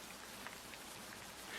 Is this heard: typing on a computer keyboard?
no